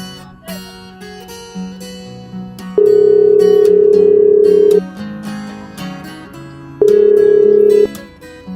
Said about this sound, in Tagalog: nagri-ring, pero walang sumasagot